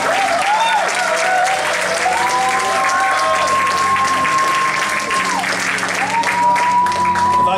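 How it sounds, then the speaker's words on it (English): A church congregation at a Sunday morning presentation applauding a speaker, with loud, continuous clapping that fills the room while organ or keyboard tones hold underneath. "Let's give him another round of"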